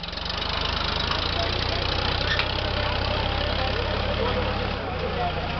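A Sonalika tractor engine runs at a demonstration in Jodhpur, a loud, steady low diesel rumble held throughout with a slight dip near the end, as someone speaks over it.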